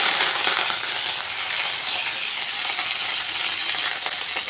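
Mustard seeds and chana dal fry in hot oil, giving a loud, continuous sizzle with crisp popping crackles close by and no pauses.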